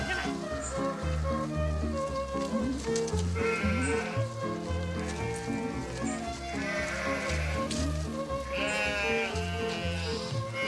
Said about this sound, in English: Hatsi, a Hungarian pumi, tends her flock of 60 sheep with her shepherd, Gobi Patko.